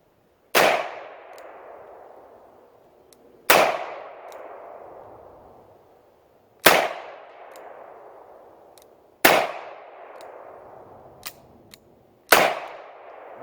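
An Armscor M200 revolver fires five loud, evenly spaced shots at a steel target, each a sharp close crack with a ringing tail, with faint clicks in the gaps between them.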